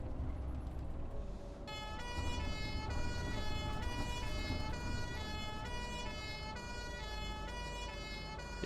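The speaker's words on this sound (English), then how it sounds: "If I'm going to hear the sirens," Emergency vehicle sirens in the London Bus Simulator game wail continuously and loudly with steady, rising and falling tones over a low engine rumble. No one speaks.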